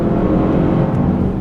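A 2024 Mercedes-AMG GLE 63 S downshifts and accelerates hard, its engine a steady, fairly loud drone heard from inside for a brief moment.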